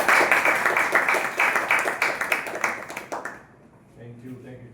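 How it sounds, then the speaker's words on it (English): A crowd claps steadily and loudly for several seconds, then the applause fades out abruptly into near silence. "Let us, with a big round of applause, call upon Toastmaster Kirin."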